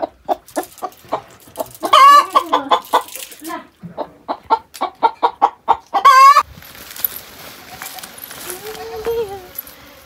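Rhythmic chicken clucking repeats in quick bursts, with a couple of rising squawks, then gives way to mixed background noise and faint voices.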